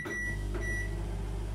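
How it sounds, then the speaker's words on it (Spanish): A running microwave oven hums steadily with a low, constant drone and a faint whine at a moderate level, with no talking. "os estoy grabando con el sonido del microondas"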